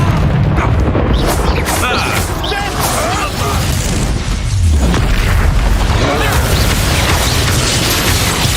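An Expulso explosion spell cast in the video game Hogwarts Legacy sets off a loud, continuous booming blast with crackling debris, dense and overwhelming throughout amid heavy game noise.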